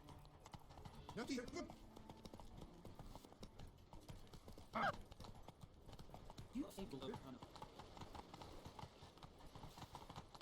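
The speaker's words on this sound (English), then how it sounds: "Just riding my horse all the way up here." A horse gallops in The Witcher 3 as quiet rhythmic hoofbeats clip-clop steadily beneath a speaking voice, with a couple of brief louder accents along the way.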